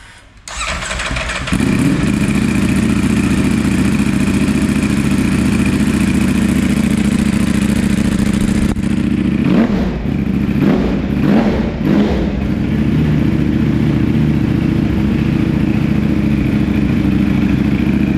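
A Ducati motorcycle with an Akrapovic titanium full exhaust system starts up and idles loudly nearby, a steady throbbing drone with a few sharp revs in the middle.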